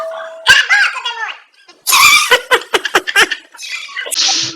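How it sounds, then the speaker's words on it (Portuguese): A dog in a documentary scene lets out a quick series of loud, sharp barks and yelps, preceded and followed by squeaky, voice-like noises and a brief hissing burst at the end. "Tadinho do cachorro."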